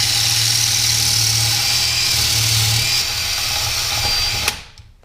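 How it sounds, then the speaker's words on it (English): A power drill whines steadily at high speed, boring into a metal motorcycle part, with a gritty grinding edge, close and loud, then winds down and stops. "So I'm drilling from the end here."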